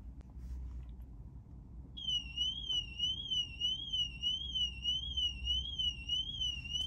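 A warbling electronic Mercedes car alarm starts up and wails continuously in a steady up-and-down pattern over a low background rumble.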